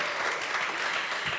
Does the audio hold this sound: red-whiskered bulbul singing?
no